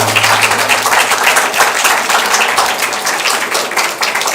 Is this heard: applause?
yes